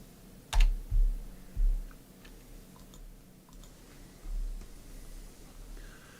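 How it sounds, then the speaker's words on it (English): Keys clack on a computer keyboard close by, starting with a few loud, separate strokes and then settling into softer, scattered taps over a low background hum. "so you can hear my keys again"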